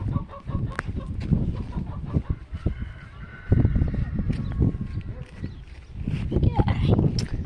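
Ducklings and chickens call and cluck in a backyard poultry pen, scattered close squawks and peeps mixed with frequent talking and handling noises throughout.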